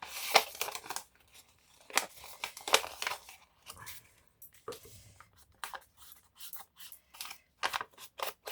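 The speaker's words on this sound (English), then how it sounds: "I tend to scrumple up a lot of my papers because it just takes away from the neat edges" A sheet of paper is scrumpled up by hand to rough its freshly cut edges, giving close, irregular crinkling and crackling with sharper rustles scattered throughout and no speech.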